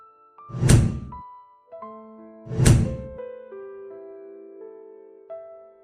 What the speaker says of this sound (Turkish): gizemli bir karakter arkasındaki kapıyı ışıklar kapanmadan önce kapatıyor